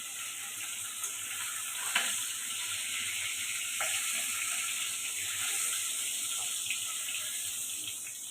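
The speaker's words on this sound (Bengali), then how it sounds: "দেখো বন্ধুরা, হালকা করে ভেজে দিয়েছি পমফ্রেট মাছ।" Pomfret fish frying lightly in a pan, a faint, even sizzle and hiss running steadily with a few soft clicks, quiet and close, no one speaking.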